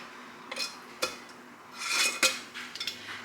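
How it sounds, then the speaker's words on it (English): Glass canning jars of bone broth having metal lids screwed down, giving scattered clinks and scraping twists at close range in a quiet kitchen. "I'm going to take this and just tighten on my lids."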